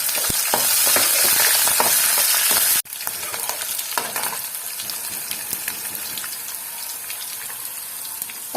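Green chilies and dried red chilies frying in a pan for a moong dal coconut curry: a loud, dense hiss and crackle of hot oil that drops sharply partway through, then settles into a softer, steady sizzle with small pops.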